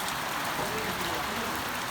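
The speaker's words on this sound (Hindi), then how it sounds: "माशाअल्लाह जी बारिश लगी दी है फुल फुल बारिश लगी दी है" Steady, dense hiss of a full downpour with large, cold raindrops falling outdoors on a morning that had been clear, continuous and fairly soft, with no voices.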